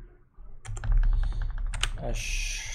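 Rapid keystrokes clatter on a computer keyboard during 3D jewelry design work, a close burst of clicks with brief talk in the background.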